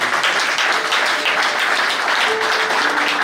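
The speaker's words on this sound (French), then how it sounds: "Sous vos applaudissements, s'il vous plaît." A crowd applauds steadily and loudly at a church handover ceremony between an outgoing and incoming president, with continuous dense clapping throughout.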